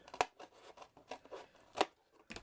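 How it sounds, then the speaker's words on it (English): Small scissors cut paper to curve it for a miniature girly bedroom diorama, giving a string of quiet, crisp snips with two sharper, louder cuts standing out among the lighter ones. "I'm going to use my little scissors to curve that around."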